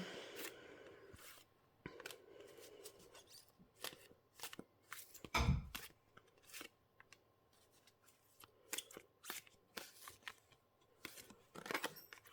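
Wildwood Tarot cards shuffled by hand, giving bursts of crisp riffling and slapping with a louder card snap near the middle, then scattered quieter flicks and taps as cards are drawn, close and without talk.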